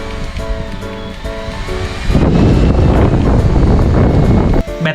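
A GOOJODOQ portable handheld fan blows steady air with a faint motor whine, then its airflow steps up sharply to a loud, broad rushing roar that continues close to the mic.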